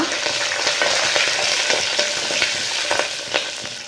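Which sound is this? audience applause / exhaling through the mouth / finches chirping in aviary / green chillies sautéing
green chillies sautéing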